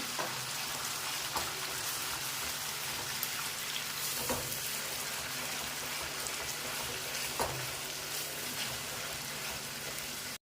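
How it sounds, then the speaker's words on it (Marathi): Masala paste for Maharashtrian misal pav frying in hot oil, a steady, moderately faint sizzle with rain-like crackle running evenly throughout, a few soft clicks of stirring, no voices. "ही पेस्ट आपल्याला तेलामध्ये टाकून घ्यायची आहे आणि चांगली परतून घ्यायची आहे"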